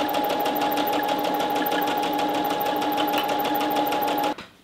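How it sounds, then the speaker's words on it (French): A sewing machine stitches a long fused fabric band for a summer shirt dress, giving a steady, rapid mechanical whir with fast needle ticking that runs close and loud, then stops abruptly near the end. "une autre grande bande que là je vais coudre"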